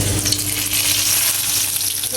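Chopped onion and garlic sizzle steadily in hot oil in a kadai, a loud continuous frying hiss close to the pan with no voices.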